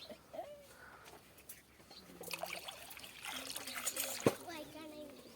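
Water poured from a container trickles and splashes, soft and close, building toward the end with a sharp splatter, while people talk quietly and a voice is heard.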